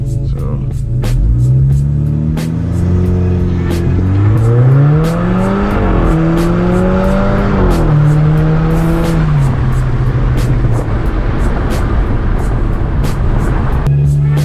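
A Stage 2 tuned Audi A5 2.0 TSI engine revs hard in a roll from 30 mph, its pitch climbing and dropping through several gear changes, loud and close, settling back into a rumbling idle.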